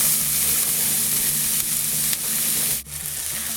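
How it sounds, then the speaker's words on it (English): Onions fry in a pan with a loud, steady close sizzle, stirred now and then, with a brief scrape near the end. "I'm going to add the onions."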